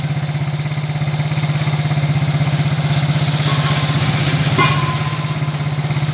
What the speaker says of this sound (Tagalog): Smooth na yung makina.